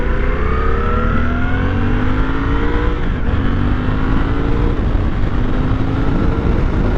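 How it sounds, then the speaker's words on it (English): Suzuki V-Strom 800DE adventure motorcycle with a bi-directional quick shifter, accelerating through the gears: a loud, close engine drone rising in pitch in repeated sweeps, broken by quick shifts, over steady wind rush. "it does have a bi-directional quick shift, which means you can quick shift up and quick shift down"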